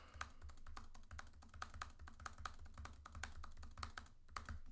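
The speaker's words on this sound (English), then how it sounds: "I don't know if you can hear that on my keyboard, but it sounds really funny sometimes." Fingers type rapidly on a computer keyboard, a dense run of crisp, close key clicks in quick irregular bursts, quiet and alone.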